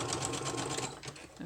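A sewing machine stitches down the edge of a paper journal page made from packing paper, a close, continuous rapid whir that stutters briefly in the final half second.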